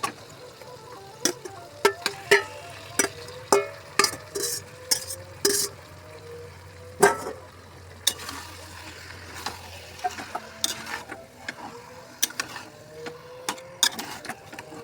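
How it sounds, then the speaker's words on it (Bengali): Chicken pieces are fried and stirred with onions in hot oil in a pan, a steady low sizzle under frequent sharp scraping and clinking of the spatula, close and fairly quiet. "তো মাংসটাকে কষে নিচ্ছি ভালো করে। এটা অনেকক্ষণ ধরে একটু কষে নিতে হবে।"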